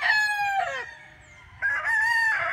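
A young rooster (stag) crows twice, loud and close: a strained, rising call, a short pause, then a second longer crow that holds steady before breaking off.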